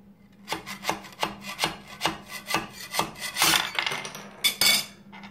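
A plastic scraper pries 3D printed owls off the heated bed of an AnyCubic I3 Mega printer: a close series of rhythmic scraping strokes, about a dozen in quick succession, growing harsher and denser near the end, with no voices.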